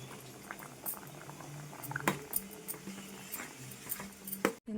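Lentil dal with garlic chilli powder, a tomato dal, bubbling as it boils in a pot, with a steady soft patter of popping bubbles and a few louder pops throughout, no talk.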